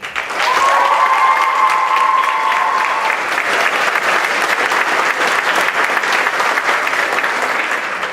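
Sustained, loud applause from an audience at a senior awards and flower presentation ceremony, a dense steady roar of clapping lasting several seconds with a faint tonal whistle or squeal early on.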